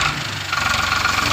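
A Farmtrac 60 tractor engine runs steadily under load while pulling a Shaktiman super seeder in a field, a continuous low rumble with a faint knocking pulse throughout the short stretch.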